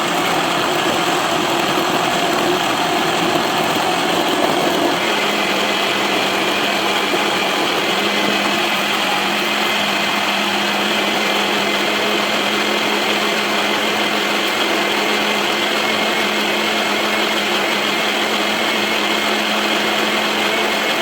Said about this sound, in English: Now that I got the water in the blender, along with all the fruits